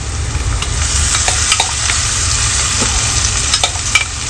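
Kashmiri red chili paste sizzles loudly as it is stirred into frying dal, a dense continuous crackle with scraping stir strokes throughout.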